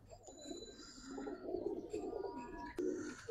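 Giribaz and colouring pigeons coo quietly in a loft, a faint continuous murmur of low throaty coos from several birds at a distance.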